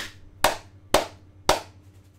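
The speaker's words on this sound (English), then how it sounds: "That's the clap test." Three sharp hand claps ring out close to a microphone, evenly spaced about half a second apart, each with a short room decay, in an otherwise quiet space.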